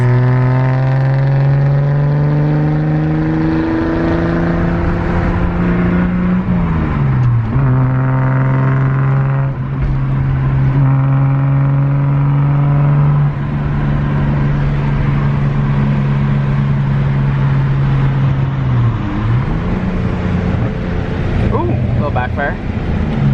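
A car's engine drones loudly from inside the cabin while driving on the road, climbing in pitch as it revs and dropping back at two gear changes.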